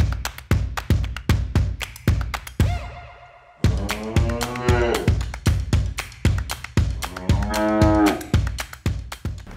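Dairy cows mooing in a farm barn at milking time in spring, with two long low moos standing out above a steady stream of sharp clanking knocks and rattles.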